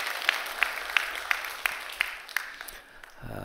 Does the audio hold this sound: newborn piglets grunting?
no